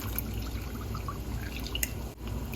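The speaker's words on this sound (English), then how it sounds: "now I'm gonna add some water to it" Water poured into refined cornmeal in a bowl for Jamaican cornmeal porridge, a faint soft trickle with a few small drips, close and quiet against a low background hum.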